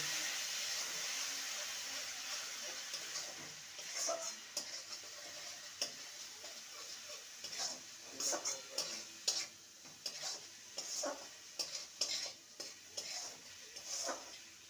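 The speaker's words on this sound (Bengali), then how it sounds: "এবার একটু সামান্য জল দেব মশলাটাকে ভালো মতো কষিয়ে নেব" Spice paste with ridge gourd is sautéed in a pan after a splash of water, giving a soft sizzle under repeated light scrapes and taps of a spoon that grow busier toward the end, close and fairly quiet.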